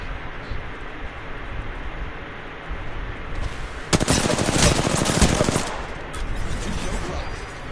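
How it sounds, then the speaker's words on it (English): Rapid automatic gunfire in the video game Apex Legends: a loud, dense burst of shots lasting about two seconds midway, followed by a shorter volley, over a low steady background rumble. "Firing on subjects."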